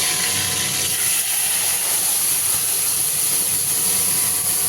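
Spices sizzle in hot oil left over from frying eggs, giving a close, steady hiss that stays even throughout with no voices.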